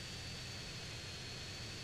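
Airplane engine in GTA San Andreas, a steady, continuous drone heard alone at close range with no voices over it.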